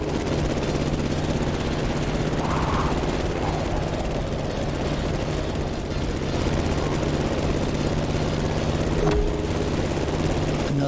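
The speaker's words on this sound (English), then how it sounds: "You've got to steer the plane all the way to the right." A propeller plane's engine drones steadily and loudly through a sharp right turn in the racing game The Crew Motorfest, with a broad, unbroken roar throughout.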